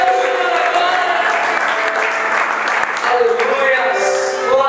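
A church congregation applauds loudly and continuously during a worship service, the clapping blending with voices and a sustained musical tone underneath, close and full throughout.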